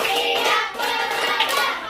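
Children clapping together in a classroom clapping routine, close and loud, filling two seconds with dense overlapping hand claps.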